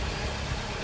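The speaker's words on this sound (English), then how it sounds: "the car is running at the moment" A 2010 Chrysler Sebring engine runs steadily at idle, a close, constant low rumble and hum for a brief moment with no one speaking.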